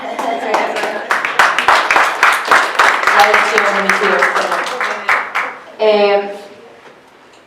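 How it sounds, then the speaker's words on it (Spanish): A crowd claps in a dense, ongoing burst of applause, with a voice speaking over it before the clapping fades out. "Aplausos a tus papás."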